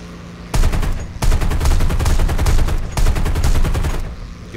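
A fighter plane's machine guns fire in War Thunder, with loud, rapid bursts in three long strings broken by brief pauses, close and alone over engine drone.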